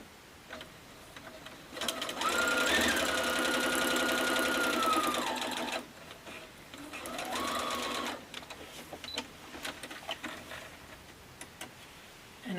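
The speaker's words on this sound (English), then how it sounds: "sew this just with your regular 1/4 inch seam allowance" A sewing machine stitches a quilt seam at a quarter-inch seam allowance, running in two close, steady bursts of rapid mechanical ticking with a quiet pause between them.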